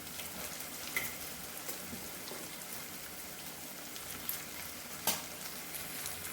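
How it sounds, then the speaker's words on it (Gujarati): Grated cabbage tossed into a hot pan with green chillies and stirred, a steady close sizzle and crackle broken by a few sharp scrapes of the spoon, with no voices. "અને પછી આપણે જે છીણેલી કોબી છે તે કોબી નાખીશું"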